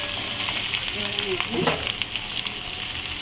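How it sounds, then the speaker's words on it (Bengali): Garlic frying in hot oil in a pan, a steady close sizzle with soft crackles and a brief stir, with no talk over it. "গার্লিকটা আমার ভাজা হয়ে গেছে"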